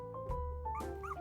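A young puppy from a Christmas litter whimpers and yips up close, a brief high whine broken by a couple of sharp little yelps, with no one talking.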